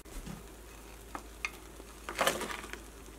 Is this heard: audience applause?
no